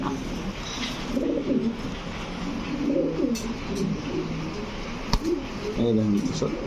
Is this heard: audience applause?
no